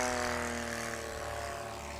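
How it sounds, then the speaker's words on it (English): A propeller airplane flies loudly overhead at an outdoor Sodbusters 2024 Adventure Class event, a steady droning engine roar with a low harmonic hum that fills the whole moment without letting up. "I can't hear you over the plane. The plane's way too loud."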